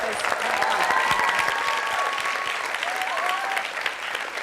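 Steady audience applause for a singer at a BRIT School masterclass, a dense wash of many hands clapping at even loudness throughout, with a brief whistle or cheer tone riding over the crowd.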